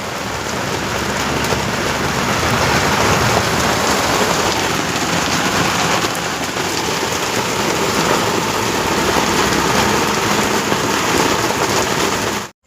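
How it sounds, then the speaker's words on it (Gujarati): Heavy rain pours down steadily during the holy month of Shravan, a dense, continuous roar of drops hammering surfaces, loud and unbroken with no voices until it cuts off at the very end. "ફૂલ વરસાદ ચાલુ હો"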